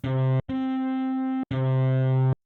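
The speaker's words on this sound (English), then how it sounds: "Fuzzy Ripper. That sounds distorted." Distorted synth sample in Ableton, a fuzzy, buzzy tone played as three sustained notes: a short note, a long one and another of medium length, each separated by a brief gap, loud and alone.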